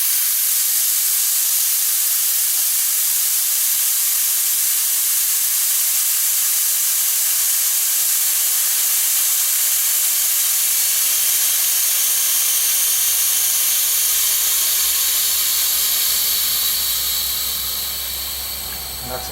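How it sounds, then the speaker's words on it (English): Compressed air rushing out of an open valve on a portable reserve air tank, a loud steady hiss that holds for nearly twenty seconds before easing off at the end, with a low rumble joining partway through. "if I want to dump the air quickly, all I have to do is open this valve here"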